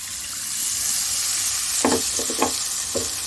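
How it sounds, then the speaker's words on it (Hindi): Milk is poured into roasted semolina in a hot pan for date halwa, giving a steady sizzle with a few sharper bursts of spitting and bubbling toward the end, close and fairly loud with no voices. "सूजी भून चुकी है। दूध डाल देंगे,"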